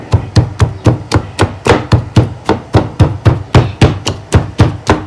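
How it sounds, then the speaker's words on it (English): Pepper being ground by hand for ofe onugbu bitter leaf soup, a steady run of about twenty sharp, evenly spaced pounding strikes, close and loud with no talk. "I will go ahead and grind my pepper"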